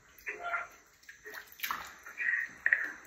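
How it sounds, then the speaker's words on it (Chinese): A yacon root is rinsed and rubbed in water, giving soft splashes and sloshing in short irregular bursts, close by with no talking. "大致洗一下，大致洗一下。"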